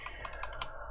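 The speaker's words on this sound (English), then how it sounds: "We don't need to type the pling, but if we want to, we can do it" Four or five quick keystrokes typed on a computer keyboard at a RISC OS desktop, close and fairly soft, evenly spaced within about a second, with no voices.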